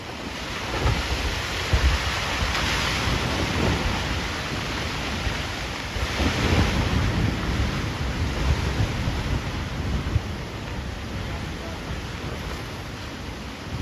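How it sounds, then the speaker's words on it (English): Freak tsunami-like waves surge ashore onto a beach, a loud, continuous roar of surf and rushing water with wind buffeting the microphone, swelling and ebbing without any speech. "What they weren't expecting was a freak tsunami to wash ashore."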